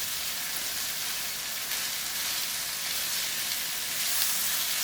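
Apples and onions sizzle in a skillet, a dense, steady hiss of frying that stays even and close throughout, with no voices.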